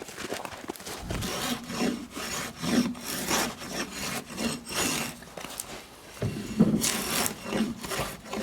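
Repeated rasping, scraping strokes of a drawknife-style blade shaving bark from wood on a shaving horse, in uneven bursts with short pauses between pulls.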